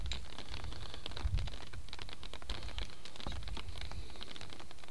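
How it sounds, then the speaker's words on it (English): Rain pattering on an umbrella held on a fairway of a Cornish coastal golf course, a dense steady patter of small taps throughout with occasional louder drops, close by and without talk. "You may hear the old pitter-patter of the rain on the umbrella."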